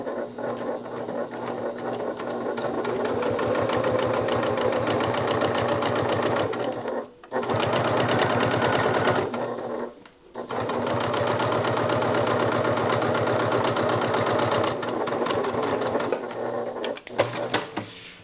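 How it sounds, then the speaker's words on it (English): A sewing machine stitches a bag's pocket lining at a quarter-inch seam allowance, its fast, even mechanical rattle running loud and close in long stretches broken by two brief stops. "So I'm going to go ahead and stitch using a 1/4 inch seam allowance."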